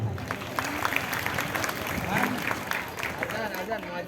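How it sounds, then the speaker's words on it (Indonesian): Students applauding at a school Isra Mi'raj celebration in Jakarta, a dense patter of clapping with voices and chatter mixed through it, moderately loud throughout. "Tepuk tangan"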